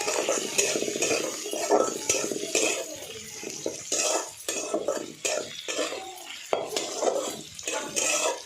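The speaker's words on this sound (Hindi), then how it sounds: "अब प्याज डाल रहे इसमें," Onions stirred and fried in a pan after garlic has browned in a home kitchen: repeated scraping and clinking of a metal spoon against the pan over a soft sizzle, close and moderately loud, with no voices.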